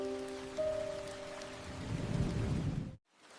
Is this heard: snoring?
no